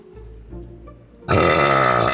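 A loud, sustained burp after drinking Dr. Pepper erupts suddenly after a quiet moment and rumbles on for about a second, close and booming with no talking.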